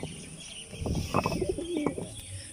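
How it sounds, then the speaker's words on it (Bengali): Pigeons in a coop, two birds kept in a cage compartment, give soft, low throaty coos in a short rolling series, close and fairly quiet, with no talking. "এখানে মোট দুখানা কবুতর আছে"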